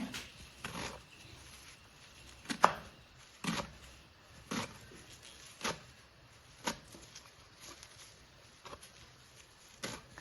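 Black nightshade greens being chopped into small pieces on a board: a dozen or so sharp, separate knife strikes at an uneven pace, close and fairly quiet, with no talking.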